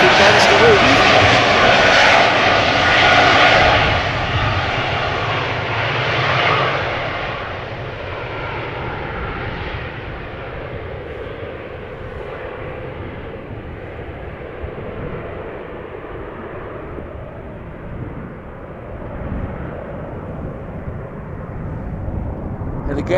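Airliner jet engines spool up for takeoff at Amsterdam Schiphol Airport, a loud close roar at the start that gradually fades into a lower, steadier rumble as the aircraft pulls away, with wind noise present.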